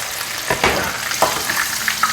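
Battered beef drops into hot oil for its first fry, making a close, loud, continuous sizzle and crackle with a few sharper bursts as pieces go in or get stirred.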